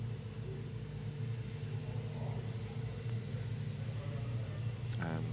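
A Toyota race car from a racing team sits in the pit lane during Macau Roadsport qualifying, its engine giving a steady, continuous low rumble with an even drone throughout.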